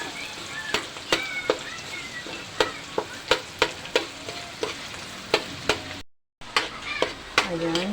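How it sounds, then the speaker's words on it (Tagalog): Garlic and onion sauté in hot oil in a wok-style pan, a steady close sizzle punctuated by regular sharp clicks of stirring, with a short drop-out near the end. "gisa na po natin ang ating bawang at sibuyas."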